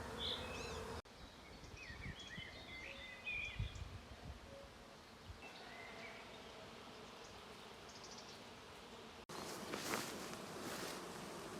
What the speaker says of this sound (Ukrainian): Гарно бджоли працюють, акація цвіте.